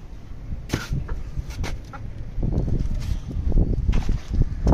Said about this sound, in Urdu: یہ کڑوی والی مرغی پکڑتے ہیں ہم، یہ جو ہر وقت چک چک چک کرتی رہتی ہیں